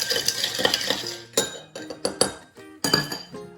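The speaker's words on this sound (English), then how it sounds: "Give that a little mix." Spoon clinking against a glass while a gummy bear cocktail is stirred, a series of bright, close taps and rattles in uneven rhythm, with no talking.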